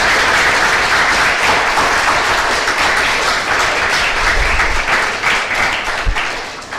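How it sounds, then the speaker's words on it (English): A lecture audience gives a loud, sustained round of clapping for Dr. Deeppaman Ganguly, dense and close, tapering slightly near the end. "Big round of applause for Dr."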